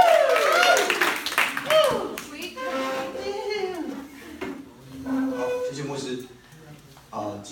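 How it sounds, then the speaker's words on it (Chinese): At an evening worship gathering, an audience gives scattered, crisp handclaps that run beneath a speaker's excited talk and singing-like voices. "来，掌声鼓励"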